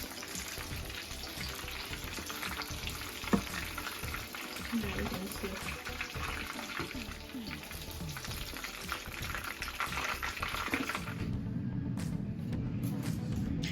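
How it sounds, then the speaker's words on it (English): Crunchy meatballs frying in hot oil give a steady, dense sizzle and crackle the whole way through, with occasional utensil clinks and stirring, and a voice speaking over it. "So it didn't even take up to like 5 minutes to fry, right? 3 to 5 minutes."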